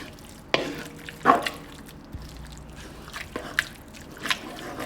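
A spoon or ladle stirring dinuguan, a pork offal and blood stew, in a pot, with a few scraping and sloshing strokes and a faint sizzle between them, fairly quiet.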